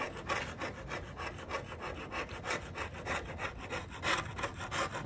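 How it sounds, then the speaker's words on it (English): Steady close scraping of old chippy paint from a wooden furniture piece, a continuous rough rasping stroke after stroke at moderate level with no talking. "I'm very ready to just continue scraping because I don't want to damage my piece."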